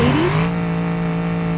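A Mercedes in the driving game BeamNG.Drive revving as it launches: a loud, steady engine drone with a pitch that climbs over the first half-second and then holds at a high whine, with no voices.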